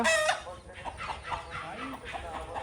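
Hens clucking close by in short, busy bursts, with people talking over them.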